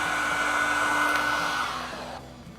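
A heat gun blows on vinyl wrap to shrink it at the corners, a close, steady whooshing hum that tapers off toward the end.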